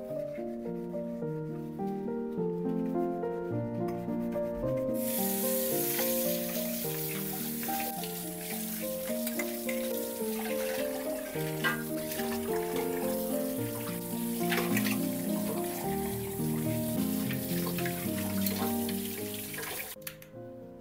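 Running tap water and scrubbing of dishes at a kitchen sink in a home, a steady wash of water starting a few seconds in and continuing under louder background music.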